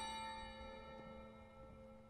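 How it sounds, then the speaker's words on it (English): A bell rings in the video game Maquette, a sustained tonal chime with long ringing overtones that decays slowly, faint and alone. "The bell. Something to do with the bell."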